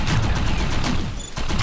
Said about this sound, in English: I like using an LMG here because it holds a lot of bullets.